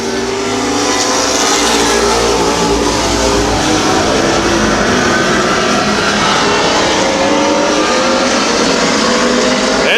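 Race cars roar around a speedway in a dense, loud, continuous engine wash with revving pitch shifts as the field runs side by side.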